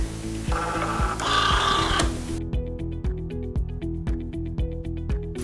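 Cricut Joy cutting machine cutting a card on its mat, heard as rapid, rhythmic mechanical clicks and a whirring motor that rises briefly mid-pass, then settles into evenly spaced stepping ticks, close and alone.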